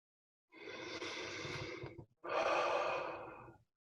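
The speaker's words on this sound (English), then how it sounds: "Breathing as all mammals do." Slow, deep breathing by a person in a quiet room: one long inhale-exhale lasting about a second and a half, a short pause, then a second fuller breath, close and soft with no talking.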